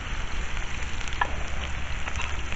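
Steady, dense sizzling of tomato frying in a hot pan for paella, close and continuous, with no talking.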